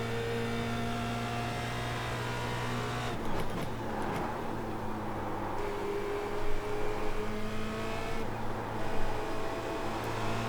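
A Formula Renault 2.0 race car at Spa in iRacing drones with a steady, high-pitched engine whine, pitch shifting through gear changes and corners, with brief bursts of tyre and track noise.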